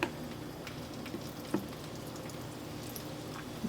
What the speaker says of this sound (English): Now I'm gonna fry this bow tie.